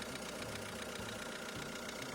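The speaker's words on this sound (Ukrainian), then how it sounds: "Працює він ніби рівно." Renault Kangoo 1.5 dCi diesel engine idling, a steady low rumble with a faint rhythmic clatter, quiet and continuous with no talking.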